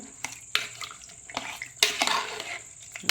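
A spoon stirs ginger-garlic paste into a tomato mixture in a pot for sambar, giving a few scattered scrapes and clinks against the metal with soft sizzling between them and no voices.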